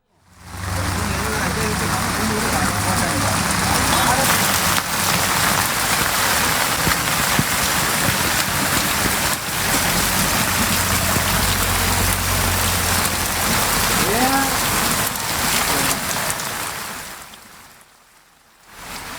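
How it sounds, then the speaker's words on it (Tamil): Heavy monsoon rain pours down in Thoothukudi district during flooding in homes, a loud, steady broadband hiss that holds for about seventeen seconds before cutting off abruptly. "தூத்துக்குடி மாவட்டத்தில் கனமழை பெய்து வரும் நிலையில்"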